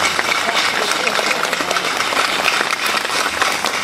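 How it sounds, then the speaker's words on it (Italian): A church congregation claps to welcome an archbishop, dense steady applause filling the space throughout, with some voices mixed in. "Diamo un forte applauso."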